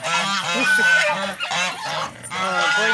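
Ducks honk and quack repeatedly close by, a run of loud nasal calls in quick bursts with brief pauses between.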